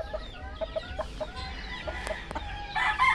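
Chickens cluck in short, scattered bursts close by, with a louder rooster-like squawk near the end over faint background noise.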